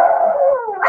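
A man imitates a pug barking with his voice, one drawn-out howling yelp about a second long, close and loud, with no other sound around it.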